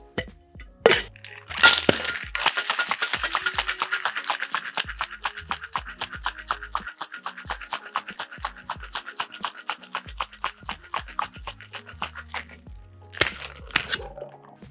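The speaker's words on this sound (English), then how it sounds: "Plenty of ice, shake for 10 to 12." Ice rattling hard inside a cocktail shaker during a 10 to 12 second shake for a drink with fresh lime juice, rapid rhythmic clattering beats close up, with a few single knocks before and after.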